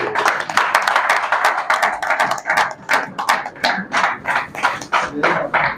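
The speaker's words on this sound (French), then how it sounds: "Si je vous demanderais d'applaudir très très très fort." A crowd at a political campaign launch claps loudly and energetically, many hands beating in a fast, uneven rhythm that holds throughout without pause.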